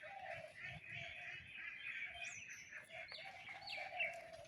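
A large hen clucks in a rural home, her calls mixed with chirpy bird notes under a person's talk at moderate volume.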